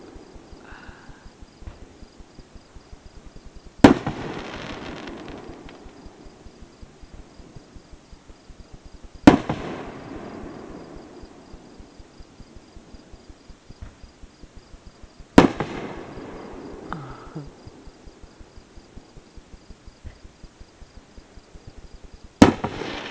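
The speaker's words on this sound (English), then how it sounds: "I love fireworks." Fourth of July fireworks boom at intervals in a holler. Three loud blasts each echo and fade, and a smaller pop follows, all over a constant, pulsing insect chorus.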